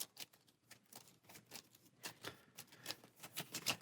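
A deck of Marvel Champions playing cards being shuffled, a quick run of soft, crisp riffling snaps repeating for several seconds, close and quiet with no talk.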